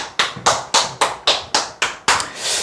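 Audience clapping in unison at a seminar, eight sharp, evenly spaced claps close to the microphone, followed by a brief fading swell.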